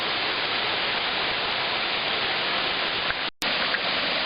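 Waterfall on a Carpathian mountain stream, a constant, close rush of falling water with a momentary dropout near the end.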